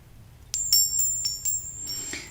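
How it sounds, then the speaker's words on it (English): A small bicycle-style bell rung several times in quick succession, bright ringing strikes with a sustained metallic tone that lingers, close and clear in a quiet room. "this is my bell for today"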